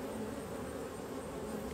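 Honey bees swarm over comb frames at an open beehive after the honey flow, giving a steady, dense, close buzz that holds unbroken from start to finish.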